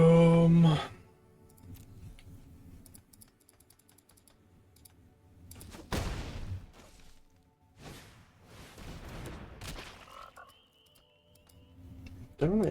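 Frog croak from the Psychic Frog card in MTG Arena, a loud croaking burst at the start, then rapid keyboard-like clicking and whooshy game effects with quiet gaps between.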